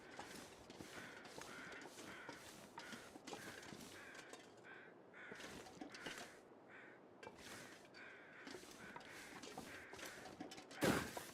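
Crows caw repeatedly in the snowy wilderness of The Long Dark, a rhythmic series of harsh calls at moderate distance over faint wind, ending with a brief louder noise.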